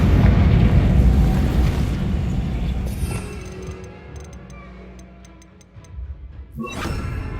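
A Confringo fire spell blast in Hogwarts Legacy, a loud, broad rumbling explosion at the start that decays over several seconds, followed by small ticking effects and a second burst near the end.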